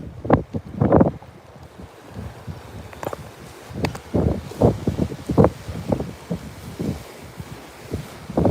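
Gusty wind over a bay on the Texas coast during saltwater fishing buffets the microphone in loud, uneven rumbling bursts that rise and fall, with no voices.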